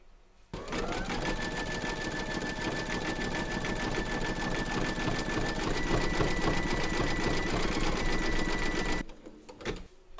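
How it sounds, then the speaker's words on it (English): Embroidery machine stitching a numbered round in flesh-pink thread for a Santa design's hand: a steady, fast mechanical whirr with a sustained whine, close and continuous, starting abruptly and stopping near the end. "Load your matching bobbin and thread colour for his hand into your machine and then stitch round number 15"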